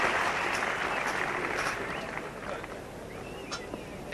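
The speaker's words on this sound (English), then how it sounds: "There's no shortage of applause here today" Applause from a smaller crowd at a 1984 England versus West Indies Test cricket match fills the air as a steady patter of clapping, with a commentator's voice heard over it.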